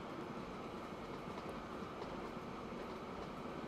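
Trains run in the Train Fever video game, giving a continuous low rumble of rolling wagons with faint clickety-clack. The sound is quiet and steady, as if heard from a distance.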